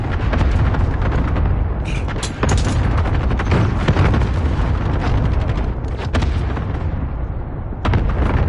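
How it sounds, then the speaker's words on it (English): Cluster strike in a Modern Warfare match, loud repeated booming explosions and crackling blasts rolling over several seconds, close and heavy, with brief sharp bursts mixed in. "Allied cluster strike incoming."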